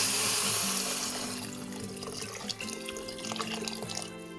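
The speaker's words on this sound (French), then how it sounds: "Et enfin, je couvre d'eau bouillante." Boiling water poured over vegetables and vegetable stock powder in a multicooker pot, a continuous close gurgling pour with shifting pitch as the vessel fills, fading slightly toward the end.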